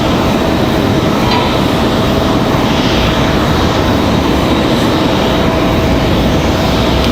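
An Airbus A319-100 airliner arriving from Newark at Raleigh-Durham airport makes a loud, steady broadband roar that holds throughout, with a faint high whine riding on top and no voices.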